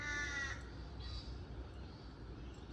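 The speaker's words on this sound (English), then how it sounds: "Little crow." A crow caws in a short, harsh burst at the start, then a fainter second call follows over a low background rumble.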